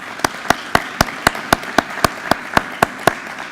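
Rhythmic clapping from the audience at a dedication ceremony in Columbus, about fourteen sharp, evenly spaced claps in a steady beat, fairly close and clear, with no talking over them.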